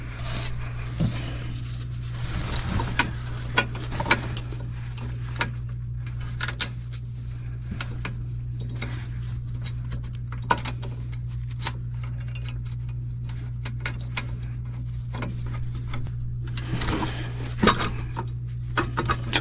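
Under a Dodge Sprinter van, a bolt and nut are fitted to a bracket on the catalytic converter tube, heard as scattered metallic ticks, taps and clinks of tools and fasteners. Irregular and close, over a steady low hum.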